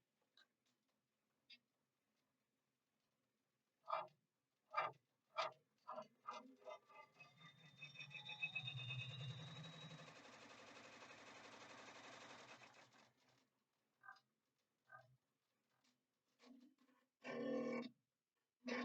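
An embroidery machine sews a stitch on a wallet, a faint, sustained mechanical whir lasting several seconds, set among scattered light clicks and taps in an otherwise quiet room.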